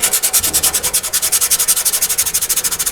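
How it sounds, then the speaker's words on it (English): Sanding surface rust and scale off metal in a garage, loud close rhythmic back-and-forth scrubbing strokes in an even, fast cadence with no talk. "Get all the loose off, all the scale, and the better part of the surface rust."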